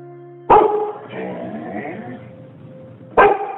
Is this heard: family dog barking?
yes